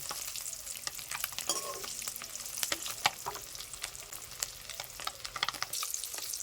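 Eggs frying in a pan for a Bengali egg and potato curry, a steady close sizzle with scattered crackles and pops throughout, no voices over it.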